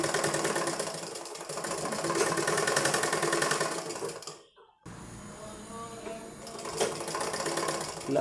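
A sewing machine stitches thread piping along a blouse neckline, running in a steady rapid whir with a brief pause midway before resuming close and fairly loud.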